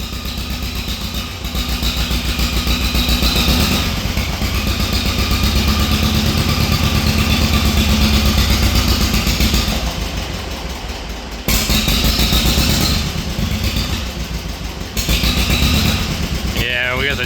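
An old tractor engine left parked for years, with a dirty carburetor, runs with the choke on in a loud, steady, slightly uneven idle that briefly cuts out and picks up again, with someone talking over it.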